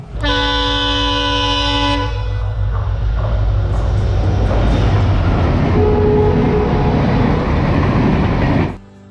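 A Konkan Railway train rolls past close by at Kudal station, its horn blaring for the first couple of seconds, then a loud steady rumble of wheels and cars before it cuts off.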